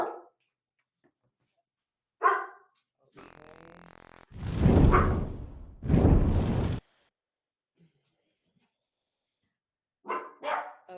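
Dogs bark and grunt in short separate bursts, loud and close, with a stretch of music and noisy rustling between them.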